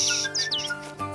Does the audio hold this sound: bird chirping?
yes